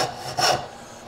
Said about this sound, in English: Keep the saw tight to it.